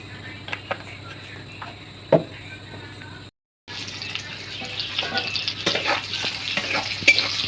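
Eggs frying in a pan for an egg-potato curry, giving a steady close sizzle with light stirring clicks and a brief clatter. It breaks off for a moment, then returns louder and hissier.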